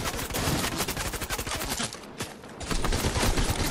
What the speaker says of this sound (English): Oh, I'm being shot from somewhere else.